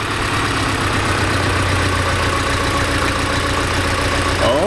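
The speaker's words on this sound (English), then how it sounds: "Okay, so the rearmost cylinder is bad on this engine." A Porsche 944 engine idles with its rearmost cylinder dead, producing a steady, loud, uneven low rumble that runs continuously and close without any talk.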